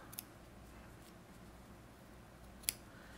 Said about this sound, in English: then come over here and do a little snip snip